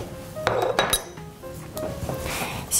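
Clinks and knocks of a deep plate and dishes being handled in a home kitchen, several sharp irregular hits close by with quieter rattling between.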